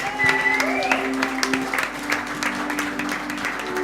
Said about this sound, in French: Est-ce qu'on peut juste applaudir pour ces jeunes?